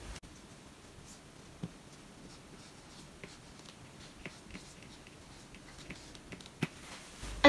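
A pen writes an Arabic sentence by hand on paper, faint scratchy strokes with small ticks scattered over several seconds, close and quiet, with a soft voice present.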